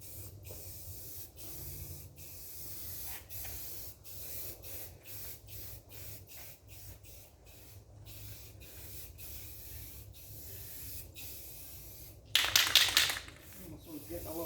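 A can of metallic spray paint hisses out in one short, loud burst near the end, applied to a wall hook. Before it, a steady run of faint tapping or clicking is heard, with some quiet voice in the background.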